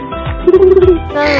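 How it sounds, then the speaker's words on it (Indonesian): A pigeon gives one short, soft cooing phrase, close by and alone, with a faint rustle of background noise around it. "Merpati."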